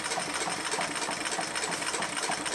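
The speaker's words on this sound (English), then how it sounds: "I can sew all of this stuff together to make the finished front panel of the bag." A sewing machine stitching the front panel of a travel bag, a fast continuous whirring rhythm heard close up without pause.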